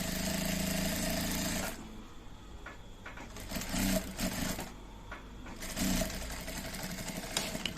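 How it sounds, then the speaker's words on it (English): A sewing machine top stitching a cargo patch pocket, its motor running in loud, steady bursts that stop and restart, with short pauses and a few clunks between runs, close by. "You now fold, then you top stitch again exactly at that point."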